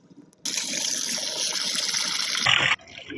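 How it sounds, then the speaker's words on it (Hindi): Water gushes steadily as it is drained off washed bitter gourd in a kitchen, a continuous pouring rush lasting about two seconds that swells briefly before cutting off. "हम इसका पानी निकाल रहे हैं"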